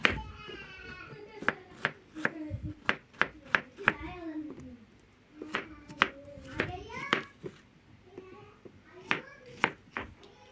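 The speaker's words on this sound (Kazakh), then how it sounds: "Алдымен алма мен бананды кубиктеп турап аламыз." Knife chopping apple and banana into cubes on a board, a quick run of sharp, close taps in uneven bursts, with a voice and other voices talking over much of it.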